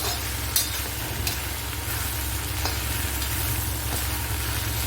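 Okra frying in a pan for an okra and onion dish, a steady close crackling sizzle with a few sharper pops and faint stirring scrapes, continuous throughout with no talking.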